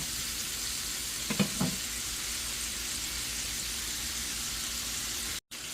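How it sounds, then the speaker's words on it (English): Cajun sausages brown in a pan with a steady, close sizzle throughout. A couple of brief stirring scrapes come early, and there is a momentary cutout near the end. No talking. "we'll add in the other things after we finish browning the sausages"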